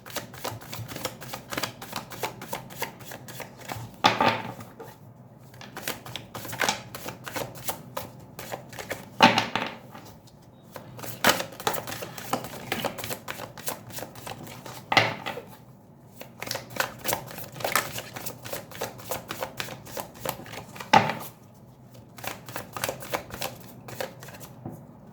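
Tarot cards being shuffled and handled close up, a long series of soft riffling flicks and slaps with a few louder snaps and short pauses between bursts.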